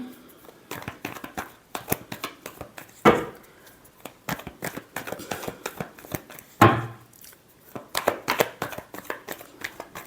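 Tarot cards are shuffled by hand in quick bursts of dry riffling and flicking, with short pauses between and two sharper snaps of cards being squared.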